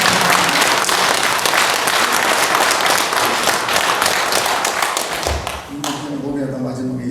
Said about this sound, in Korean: 여러분 서로 우리 박수 한번 쳐줍시다